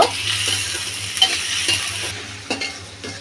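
Washed prawns and water lily stems sizzle steadily in hot oil in a pan, with a spatula stirring and scraping in occasional soft clinks over a constant low hum; no one speaks.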